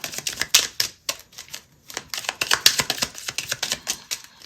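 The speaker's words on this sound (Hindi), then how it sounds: "अब देखते हैं एस्ट्रोलॉजी डेक से 2 कार्ड लेंगे हम।" Tarot-style astrology cards are drawn and shuffled from a deck, giving a run of crisp flicks, slaps and papery snaps at close range, fairly loud and uneven, with no talking over them.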